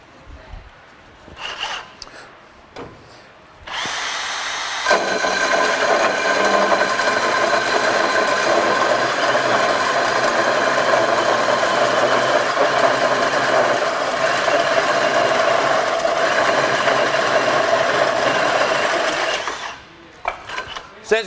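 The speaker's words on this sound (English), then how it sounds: "So let's see what this has in a 6-inch hole." A Milwaukee M18 Fuel Super Hawg cordless drill bores a 6-inch hole, a steady loud grinding whir that runs continuously for about fifteen seconds after a few brief knocks and handling sounds, then stops.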